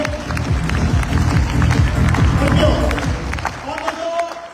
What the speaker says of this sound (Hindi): ग्रेट मेंटर के लिए अगेन जोरदार तालियां होनी चाहिए